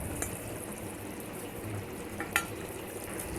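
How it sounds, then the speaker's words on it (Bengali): Barramundi fish curry broth with potatoes and taro bubbles steadily in a pot, a soft continuous simmering hiss with a few faint clinks, heard alone and fairly quiet. "ঝোলটা ফুটে উঠেছে, এবার আমি ভেজে রাখা মাছগুলো আমি এই ঝোলের মধ্যে দিয়ে দেবো।"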